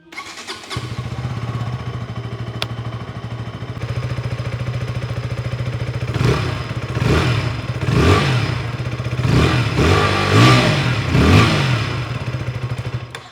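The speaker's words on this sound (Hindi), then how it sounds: "अब इस बाइक का एग्जॉस्ट कैसा आता है वो सुनते हैं।" KTM RC 160 motorcycle starting up and idling with a steady low exhaust thrum, then several sharp throttle blips revving up and dropping back, loud and close.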